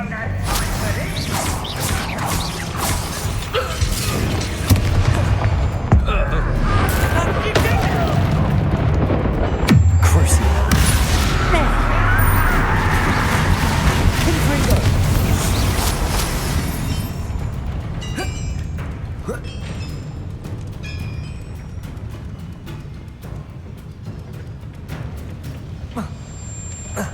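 Confringo and Incendio fire spells blasting in the video game Hogwarts Legacy, with a dense, continuous run of booms, whooshes and crashes and one heavy impact near the middle, while voices shout in between.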